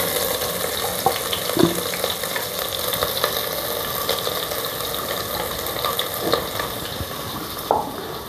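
Ginger garlic paste fries in a pan with a steady dense sizzle, broken by occasional scraping and clinking stirs, close and loud without talk.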